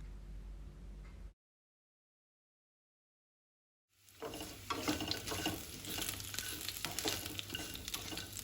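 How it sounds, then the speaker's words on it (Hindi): Kashmiri lotus stem (nadru) frying in a pan and being stirred, with a steady sizzle and scraping stirs that follow a short silent gap. "नद्रू को हम गोल्डन ब्राउन होने तक फ्राई कर लेंगे।"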